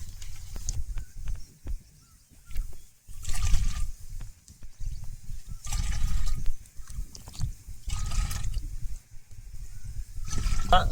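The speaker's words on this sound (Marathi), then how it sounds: "आपण इथं पाणी भरून घेतलं आहे दोन लिटर दोन लिटर पाणी घे घेतलं भरून" Water pours into a two-litre pump sprayer on a Konkan village farm, in intermittent splashing gushes broken by short pauses, close by.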